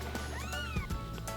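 A young abandoned kitten gives one clear, close rising-and-falling meow, followed by soft rustling and small movement sounds.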